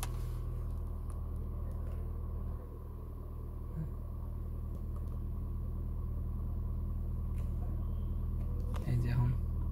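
Engine of a 2017 Toyota Camry hybrid idling to charge the battery, a low steady hum and rumble inside the car, fairly quiet with a faint click near the end.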